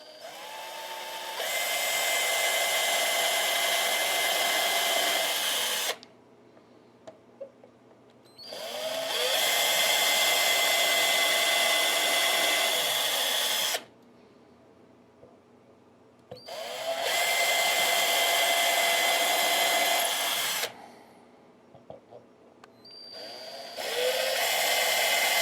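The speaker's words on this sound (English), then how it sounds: "Now I like to put the neck in the pocket when I drill these holes." Power drill boring holes through a guitar neck pocket while the neck sits in place: four long whining bursts of several seconds each, separated by short quiet gaps, close and loud.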